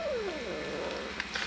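A pregnant cat gives a low, drawn-out growling moan that slides downward, close and fairly loud for over a second against steady background hum.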